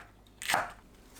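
A kitchen knife cuts through a crunchy Korean green pepper in one quick, crisp crunch, faint and close, with nothing else around it.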